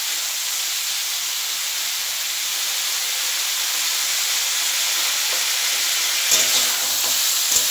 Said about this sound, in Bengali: একটু ভেজে নাড়াচাড়া করে ভেজে নিই।